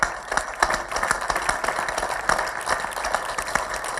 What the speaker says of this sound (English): Let's clap for IIT Roorkee.